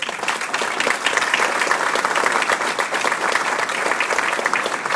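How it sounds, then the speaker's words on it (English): An audience at a Virginia Beach Fraternal Order of Police gathering breaks into dense, sustained applause, loud and even for several seconds without a voice over it. "Let's give them a round of applause."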